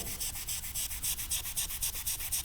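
Steady rhythmic sanding of scratched plastic car trim, a gritty back-and-forth scrubbing with regular strokes, close up and fairly quiet, no voices.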